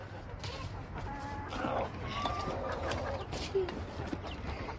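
A rooster kept on a rooftop clucks and murmurs near the listener in short broken calls, with other chickens and faint background noise around it.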